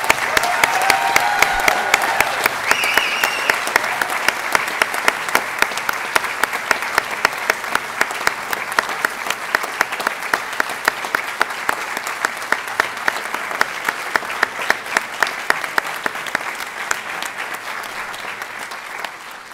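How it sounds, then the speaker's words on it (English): Sustained applause from an audience for graduates at a Master of Engineering diploma ceremony at the Pratt School of Engineering, a dense steady wash of clapping that slowly thins toward the end. "Let's give another big round of applause to all of our graduates."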